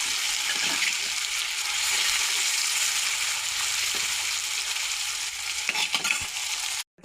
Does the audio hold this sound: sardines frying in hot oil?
yes